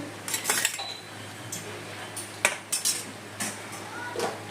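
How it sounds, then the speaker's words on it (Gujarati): Potatoes are tipped into a pan of hot oil and stirred, with scattered metal clinks and scrapes of a utensil against the pan, fairly quiet between the sharper knocks. "હવે આ બટેકા નાખી દઈએ આપણે"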